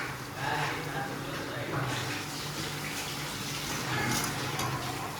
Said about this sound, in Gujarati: જુઓ આપણે થોડું પાણી નાખ્યું છે આમાં